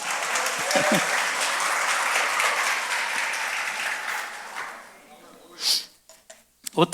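Congregation applauding during a church service, a dense, sustained clapping that fades out after about five seconds, followed by a few brief sounds and a short burst of speech at the end.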